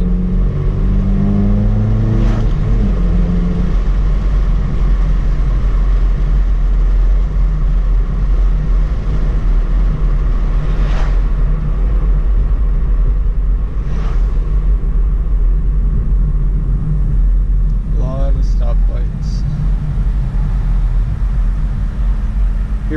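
Steady low exhaust drone from a 2017 Subaru WRX fitted with a Nameless catback, muffler delete and 4-inch tips, idling and held at a constant rumble throughout with a couple of faint clicks near the end.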